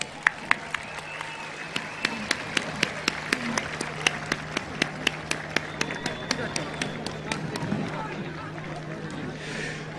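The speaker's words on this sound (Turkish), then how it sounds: "Bir alkış daha rica ediyoruz onlara." An outdoor crowd at the İzmir liberation day celebrations gives scattered, uneven applause, with a few sharp individual claps standing out over a steady background hum and murmuring voices.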